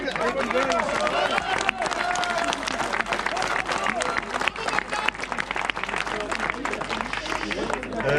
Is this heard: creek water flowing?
no